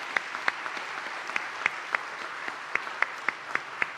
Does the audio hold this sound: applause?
yes